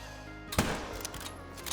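A single rifle shot from theHunter: Call of the Wild cracks sharply once, at moderate loudness, over a steady hum of outdoor ambience.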